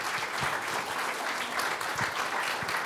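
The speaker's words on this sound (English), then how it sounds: "We're going to have one more round of applause." A crowd at a university business prize competition claps steadily for the contestants, a dense, even round of applause from a large audience with a few sharper nearby claps standing out.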